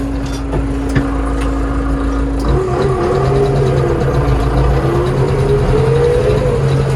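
A tractor engine chugs at low speed over a field prepared for sunflowers, a steady mid-pitched drone that shifts slightly partway through as the tractor rocks along, fairly close.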